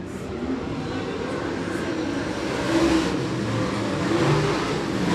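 Dirt late model race car engines roar steadily around a dirt track at Jackson County Speedway, a continuous droning rumble with swells as cars power past, no voices.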